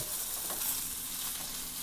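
Marinated mackerel sizzles steadily in hot oil, a continuous crackling hiss that stays even throughout.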